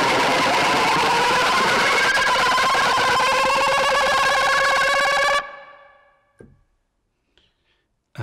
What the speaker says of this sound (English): this was basically made by tremolo bowing the strings and then kind of gradually building in intensity